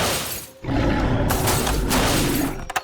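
A plastic Jurassic World toy T-Rex presses down on the glass roof of a toy car, producing a sustained loud crunching, rattling clatter of plastic parts ending in a few sharp clicks.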